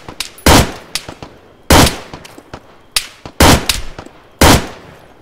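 Gunfire in an online shooter game, sharp loud shots in irregular bursts, some single cracks and some quick doubled volleys, with no talk over them.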